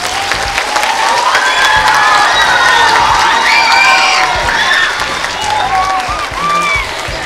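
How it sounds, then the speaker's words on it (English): A school speech day audience claps loudly and steadily, a dense roar of applause from a large hall crowd with some high whoops and cheers from children mixed in. "Let's give them one last big clap."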